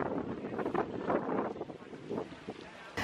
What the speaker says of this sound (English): It's a bit windy, and everybody is enjoying the water.